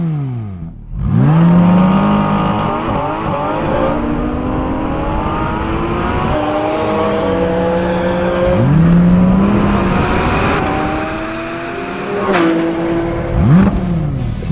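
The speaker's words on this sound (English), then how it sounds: "4-litre naturally aspirated flat 6 as the one in the 911 GT3" A Porsche GT4 RS's 4-litre naturally aspirated flat-six screams up toward its 9,000 RPM redline in repeated rising sweeps, dropping briefly between gear changes, loud and close throughout.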